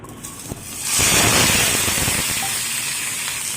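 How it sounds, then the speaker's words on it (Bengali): Mustard seeds and dried red chillies hit hot oil for a Bengali green mango chutney, bursting into a loud, steady sizzle that holds after a brief quiet start. "এবার আমি সর্ষে আর শুকনো লঙ্কা দিয়ে দেবো তেলের মধ্যে"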